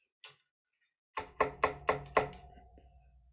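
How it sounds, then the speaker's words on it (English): Wristwatch knocked against a hard tabletop: one light tap, a pause, then five firm, evenly spaced knocks close up, the last followed by a short ringing decay. "This was me knocking the watch on my table."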